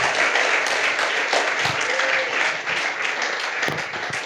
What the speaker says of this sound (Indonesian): I want you to really give him a real hand of appreciation.